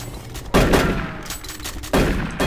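Gunfire in the video game Doom 3, heard as several sharp, loud shots in bursts with short gaps between them, close and punchy, with no talk over them.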